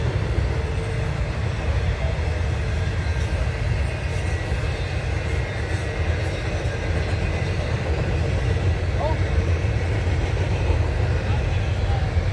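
A Norfolk Southern intermodal freight train with a boxcar in the consist rolls past, a steady heavy rumble of wheels and wagons that holds nearby throughout.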